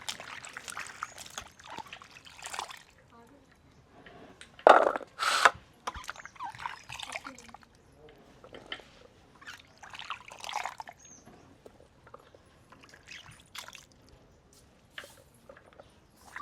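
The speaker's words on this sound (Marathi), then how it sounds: "टरबूज धुतलेलं होतं त्यामुळे एकच पाण्याने धुवून घेऊया" Pieces of watermelon rind are rinsed in water, with scattered splashes, trickles and clattering handling of the pieces, mostly quiet with a few louder knocks of the vessel.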